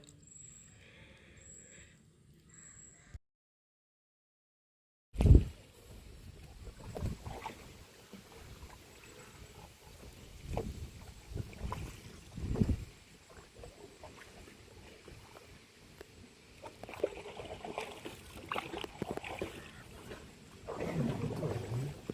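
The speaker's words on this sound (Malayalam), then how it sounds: "അഞ്ച് മണിയായപ്പോൾ ഞങ്ങളിതാ തിരിച്ച് തോണിയിൽ തന്നെ കയറുകയാണ്" A small wooden rowboat (thoni) is boarded on the water in the evening. A brief near-silence is followed by a sharp thump, then soft knocks, creaks and light water movement under a quiet wind hiss.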